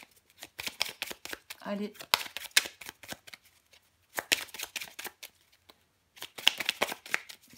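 Tarot cards shuffled and drawn in quick papery bursts, with a short riffle in the middle and further flurries later, while someone speaks in French between them.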